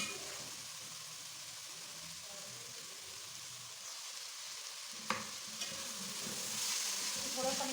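A filling mixture is stirred as it fries in a pan, giving a continuous soft hiss of sizzling with a few faint scrapes and one clear knock of the spoon, close but quiet.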